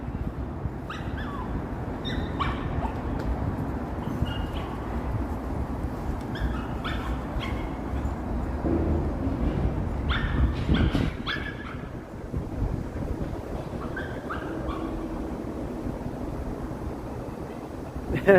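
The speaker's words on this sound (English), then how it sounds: "A meeting of the pooches." Dogs meet outdoors on a windy lakeshore walk in Toronto, with a few yips, short barks and whimpers scattered over steady wind and street rumble, moderately close.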